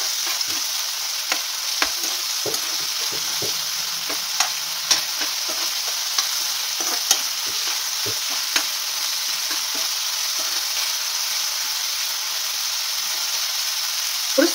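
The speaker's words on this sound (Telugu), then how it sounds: "నెక్స్ట్ వచ్చేసి అల్లం వెల్లుల్లి పేస్ట్ కొంచెం దూరగా వేయించుకోవాలి" Tomatoes and ginger-garlic paste frying in a pan, a steady sizzling hiss throughout with scattered stirring clinks and scrapes, close and continuous with no talking.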